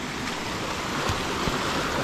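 A small forest stream on the way to a waterfall near Kuttalam, Kollam, gives a steady, soft, close-up trickling rush with no voices.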